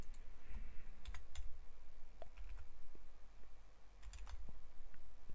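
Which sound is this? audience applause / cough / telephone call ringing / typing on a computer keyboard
typing on a computer keyboard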